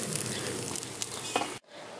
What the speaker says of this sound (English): It's just roasted veggies on the barbecue pit.